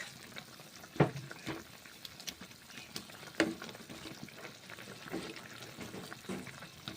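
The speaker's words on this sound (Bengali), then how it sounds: "টমেটোগুলো দিচ্ছি, নেড়ে ছেড়ে নিচ্ছি 1 মিনিট" Tomatoes frying in a Bengali cauliflower curry make a soft, low sizzle and bubble beneath a few sharp knocks and scrapes as the pan is stirred.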